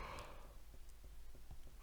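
A person yawns with a long, breathy, sigh-like exhale, quiet and close, with a few soft breath clicks as it fades.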